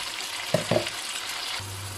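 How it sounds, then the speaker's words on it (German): Chopped beef frying in very hot oil in a pan, a steady close sizzle with a couple of brief clattering knocks partway through. "erst wenn das richtig heiß ist, mache ich das kleingeschnittene Fleisch dazu"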